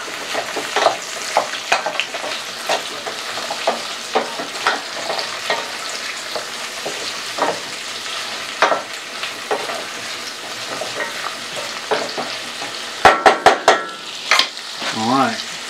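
Carrots and jalapeno peppers stirred together for pickling, a run of small repeated scrapes and clatters against the container, near and fairly loud, with a quick burst of sharper knocks near the end.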